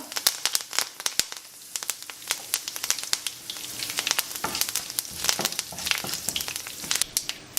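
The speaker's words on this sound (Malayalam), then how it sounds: "ഈ സമയത്ത് നമുക്ക് ഒരു കറിവേപ്പില നമുക്ക് ഇതിലേക്ക് ഇതുപോലെ ഇട്ട് കൊടുക്കാം" Curry leaves crackling and spitting in hot oil in a pan, a dense run of sharp close pops and crackles over a low sizzle.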